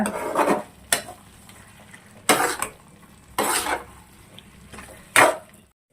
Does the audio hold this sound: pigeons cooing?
no